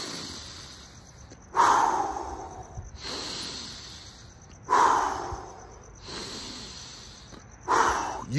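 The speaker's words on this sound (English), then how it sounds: "Then take a few deep breaths." Slow, deep breaths taken one after another, three long airy inhales or exhales spaced about three seconds apart, close and clear over a quiet hissing background.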